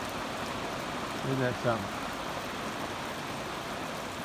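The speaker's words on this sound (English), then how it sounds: "Raining while the sun shines." Steady rain falls during a sunny summer cloudburst, a constant soft hiss close by, and a person briefly speaks over it partway through.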